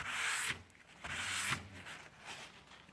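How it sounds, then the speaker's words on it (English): A cloth is wiped over a roughly sanded wooden board to spread Danish oil, giving close, dry rubbing strokes in about three back-and-forth sweeps, each with a soft hiss that fades between passes. "and give it a wipe"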